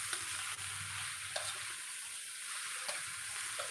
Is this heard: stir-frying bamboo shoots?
yes